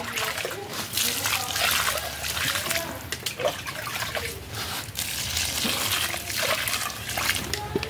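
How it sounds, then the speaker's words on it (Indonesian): Water is poured onto the soil of a potted Calathea and drains through the growing medium, giving continuous splashing and trickling with small drips, fairly quiet and close. "Kita siram lagi."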